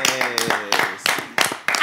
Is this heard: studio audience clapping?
yes